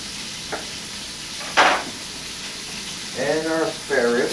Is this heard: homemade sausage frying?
yes